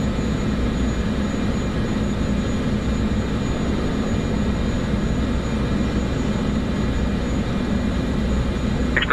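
An aircraft in Microsoft Flight Simulator 2024 takes off, giving a loud, steady, broadband engine roar that holds evenly throughout with no talking.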